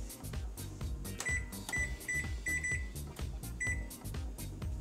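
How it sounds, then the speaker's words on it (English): A kitchen timer on an oven set at 375 degrees gives a series of short, bright beeps as it is programmed, over a busy rhythmic background. "We're going to go ahead and set a timer for about 35 minutes."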